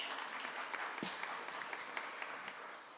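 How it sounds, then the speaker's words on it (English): Faint, even applause from a panel-event audience greeting councilmember Allison Hicks, a steady wash of hands clapping for about three seconds with no voices over it. "So if we don't mind giving her a round of applause, that'd be great."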